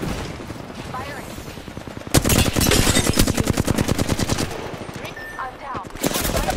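Rapid automatic gunfire in a shooter video game erupts abruptly and rattles on in a fast, even burst for a few seconds before tapering, with lighter shots and game effects around it.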